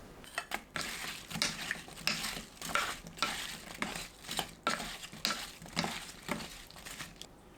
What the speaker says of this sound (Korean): 사과 넣고 버무립니다.